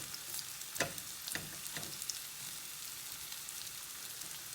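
Potatoes with chorizo frying in a pan while being stirred apart, a soft steady sizzle with a few scraping spatula strokes, faint and close.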